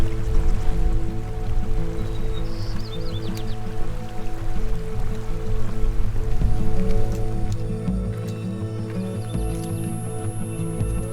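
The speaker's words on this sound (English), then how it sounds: "Here the river is calm, but it won't stay that way." The Yosemite river flows calmly in a steady, unbroken wash of water noise, fairly loud and close, with no voices.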